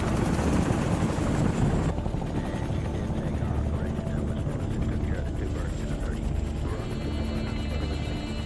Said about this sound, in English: the first U.S. choppers lift off and begin the 13-minute flight to the landing zone